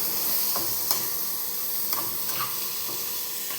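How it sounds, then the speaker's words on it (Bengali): Chicken meat sautés in a pan with a continuous close sizzle, broken by occasional scraping and stirring knocks from a utensil against the pan. "মুরগির মাংস কষা হচ্ছে"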